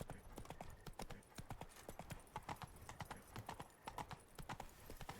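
Geralt's horse Roach, in The Witcher 3, trots with a quick, steady clip-clop of hooves, close and continuous, while someone speaks over the hoofbeats.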